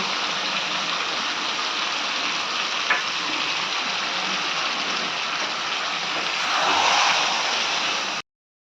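Chicken curry masala frying in oil with cashew paste added, a loud continuous sizzle and hiss that swells toward the end with stirring, close and dense before stopping abruptly, with no voices.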